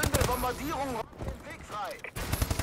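Gunfire in Call of Duty Advanced Warfare multiplayer, sharp shots and bursts scattered through the clip beneath loud talking from players.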